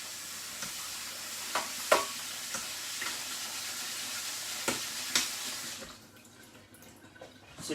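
Smoked haddock rinsed under a running tap, a steady hiss of water with occasional splashes and knocks in a kitchen, tapering off near the end.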